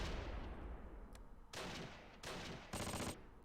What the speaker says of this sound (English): I want to use this gun to kind of suppress that house right now.